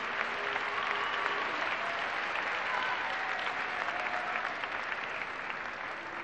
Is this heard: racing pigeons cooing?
no